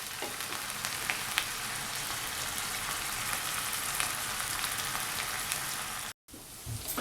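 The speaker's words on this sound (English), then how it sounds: "We will saute it for 5 minutes so that it becomes soft." Pizza puff filling sautés in a pan with a continuous crackling sizzle, close and fairly loud, cut by a brief dropout near the end before the hiss resumes.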